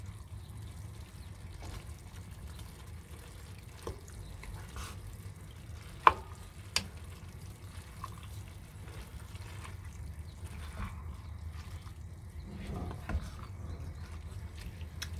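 A hearty taco soup is stirred in a pot over high heat while cooking in a cargo trailer, giving a low, steady simmering hiss broken by occasional faint clinks and scrapes of a spoon against the pot.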